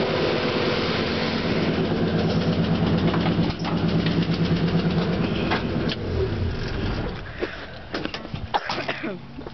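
Ford F-100 pickup engine idling after a cold start at about 35 degrees, a loud steady rumbling idle close up that drops in level partway through, with some clunks near the end.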